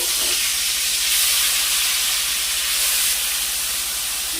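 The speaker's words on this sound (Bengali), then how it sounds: "এখন এগুলোকে ভেজে নেব যে মাছ ভেজে নিচ্ছি" Fish pieces rubbed with salt and turmeric fry in hot oil with a loud, continuous hiss and sizzle that swells slightly and holds steady throughout. No voices.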